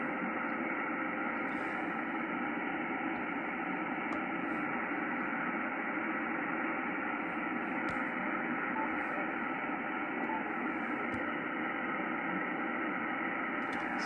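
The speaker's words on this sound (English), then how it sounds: "I don't have any DNR on, so that's why you're hearing all that hiss" Steady broadband receiver hiss from a Yaesu FT-710 ham radio transceiver with digital noise reduction switched off, a constant loud static wash filling the whole stretch with faint brief ticks.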